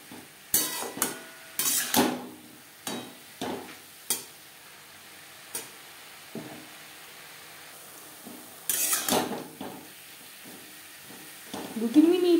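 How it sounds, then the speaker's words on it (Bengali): Greens with salt and turmeric are stirred in a pan, producing irregular bursts of sharp utensil scrapes and clanks against the metal with quiet gaps between strokes and a light sizzle near the end. "লবণ হলুদ শাকের সাথে বেশ ভালো করে মিক্স করে দেবো।"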